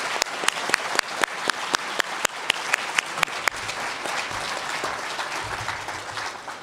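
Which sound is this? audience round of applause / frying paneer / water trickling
audience round of applause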